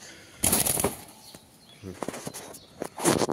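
Two loud bursts of a pigeon flapping its wings close by in a cage, separated by quiet rustling and faint taps, with no talking.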